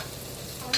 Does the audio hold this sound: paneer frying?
yes